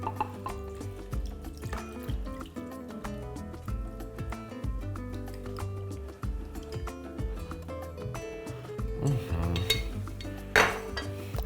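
A plate clinks and scrapes against a pot as it is flipped upside down over meatless mushroom tolma laid in the pot, with repeated clatters of crockery and a faint splash of liquid.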